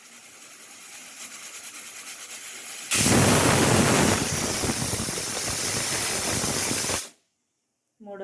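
A pressure cooker vents with a sudden loud burst of hissing steam after a quieter background hiss, holding strong for about four seconds, then stopping sharply into near silence.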